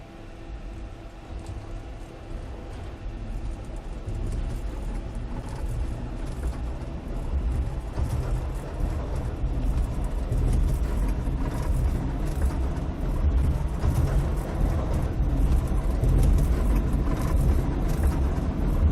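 Cessna Citation S550 jet engines at takeoff power in X-Plane, a loud, steady roar and rumble that builds gradually over the takeoff roll, with no voices.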